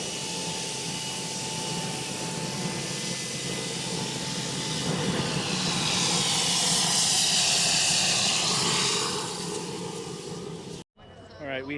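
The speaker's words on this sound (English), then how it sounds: "the Gilda driving around with that jet motor" A jet-powered Gilda car drives around at the 2024 Pebble Beach Concours d'Elegance, giving off a loud, steady jet roar that swells and then cuts off abruptly near the end.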